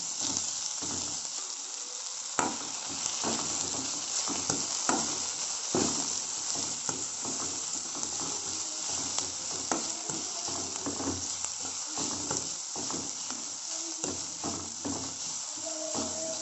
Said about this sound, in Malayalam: ഒരു സവാള ഇതിലിട്ടിട്ട് നല്ലൊന്ന് മിക്സ് ചെയ്ത് ഈ സവാള ഒന്ന് വഴന്ന് വരണം.